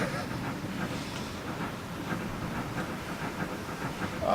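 A toy or small train runs along the line with a steady rhythmic chuffing and clatter, evenly pulsing throughout at close range with a faint hiss beneath.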